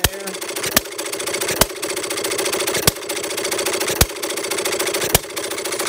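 A Perkins vertical side-shaft hit-and-miss model engine runs steadily with a loud, sharp firing bang every second or so over a continuous mechanical whir and clatter.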